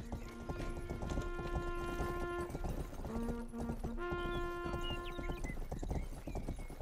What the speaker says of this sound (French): Un cheval arabe, hein, donc un cheval arabe.